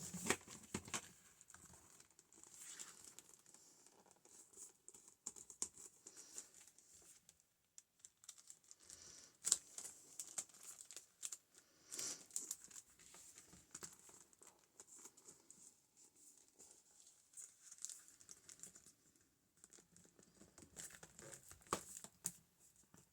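Paper being folded by hand for a floral envelope journal makes faint, intermittent crinkles and soft rustles, with scattered light taps and handling noises close by and no speech.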